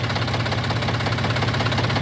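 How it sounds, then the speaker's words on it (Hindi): A John Deere 5045 D four-wheel-drive tractor engine runs slowly at low revs, giving a steady, close diesel idle with an even low-pitched knock throughout and no voices. "ये बिल्कुल स्लो में जो है मशीन चला रहा है"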